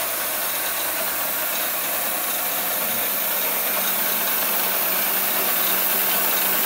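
A Bridgeport milling machine fitted with Clearpath servos and a Masso controller runs contours, giving a constant loud, hissing whir with a low steady hum underneath and no talking.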